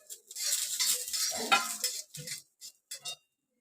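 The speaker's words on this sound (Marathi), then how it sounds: "आता हे सगळं भाजून घेते मी ही बडीशेप टाकते" Whole spices and fennel seeds dry roasting in a pan for an egg curry, heard as close, brisk stirring and scraping with light metallic clinks and faint crackle, ending in a few short scrapes.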